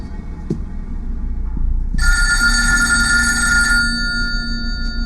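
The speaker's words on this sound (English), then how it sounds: "Stop the phone. Hey, it's just a phone, right? Well, you can answer it or not." A telephone bell rings loudly in a single sustained burst of bright, shrill ringing lasting nearly two seconds, heard close up in an indoor room with no talking over it.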